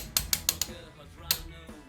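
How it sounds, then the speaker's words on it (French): Broken ratchet wrench working a spark plug loose on a Renault Twingo 1.2 16v, four quick sharp clicks followed by a single later click, close and fairly quiet. "C'est mon cliquet qui est cassé."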